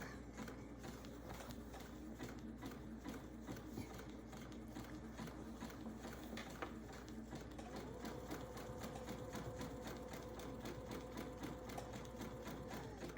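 A sewing machine stitches a serpentine quilting pattern, its needle chattering in a fast, even mechanical rhythm that runs continuously and close up without a break.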